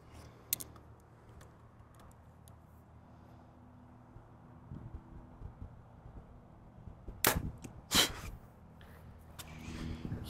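A compound bow fitted with a back bar stabilizer is shot, giving two sharp close snaps of the string release a moment apart, preceded by a faint click and quiet handling noise.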